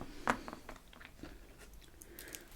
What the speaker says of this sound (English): crunch. That's what I'm doing, biting.